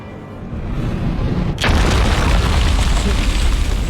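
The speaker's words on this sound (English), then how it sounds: "I guess we can probably play with the shotgun for a little bit" A single loud shotgun blast in the Alan Wake video game, a sudden sharp crack that blooms into a heavy, sustained roaring tail, set against a low background rumble.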